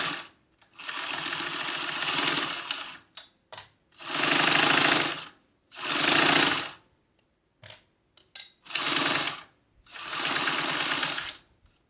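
Sewing machine stitching zipper tape onto a fanny pack pocket at a quarter-inch seam allowance, running in five loud, close bursts of about one to two seconds, separated by quiet pauses and small handling clicks.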